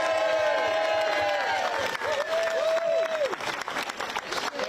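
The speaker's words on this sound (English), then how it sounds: "Let's give her a round of applause." Loud, continuous clapping from a large crowd at a migrant protest in Waterlooville, mixed with cheers and whoops that rise above the applause.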